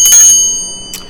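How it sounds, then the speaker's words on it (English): A silver-coloured, tarnished Christmas bell ornament gives a bright metallic ring that fades out, followed by a second, fainter tap about a second later. "That's a silver bell."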